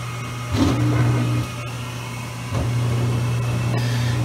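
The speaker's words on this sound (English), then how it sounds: "this is my heater finally starting up in season yesterday" A home heater runs with a steady low electrical hum and faint whir, stepping up in loudness twice as it cycles, heard alone and fairly close.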